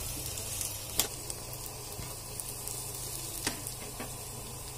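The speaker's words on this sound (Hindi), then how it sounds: "ये प्याज देखिए ऑलमोस्ट हो चुकी है।" Onions fry in a pan with a low, steady sizzle and a few faint clicks of stirring, no voices over it.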